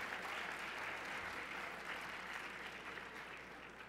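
A dinner audience claps together in a broad, even wash of applause that holds steady for several seconds with little crowd voice on top.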